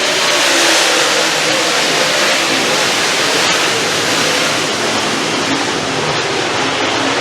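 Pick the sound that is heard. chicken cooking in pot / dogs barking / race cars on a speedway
race cars on a speedway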